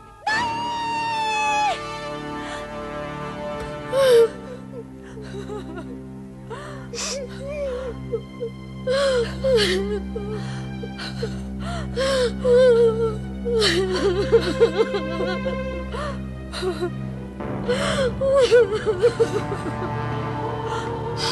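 Crying and gasping come from a royal chamber in a Hindi period drama: a voice whimpers and sobs in uneven bursts with sharp gasps, loud and close over a sustained musical score.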